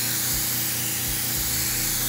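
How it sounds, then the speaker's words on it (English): Melted cocoa butter sprays off a tongue depressor for chocolate decorating, heard as a loud, steady broadband hiss with a low mechanical drone underneath, unbroken throughout. "it's spraying off of the tongue depressor or the spreader stick or whatever"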